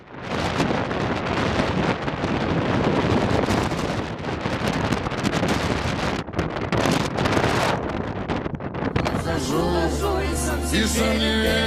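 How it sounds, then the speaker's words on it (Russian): Icy wind roars across the Manpupuner plateau in the Komi Republic, buffeting the microphone with loud, continuous gusts for most of the time before easing as a voice speaks near the end. "Просто послушайте ветер, как он приветствовал нас на плато."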